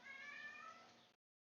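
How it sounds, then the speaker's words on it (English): A domestic cat meows in one drawn-out, nasal call lasting about a second, close to the microphone and loud, then cuts to silence. "The cat is meowing."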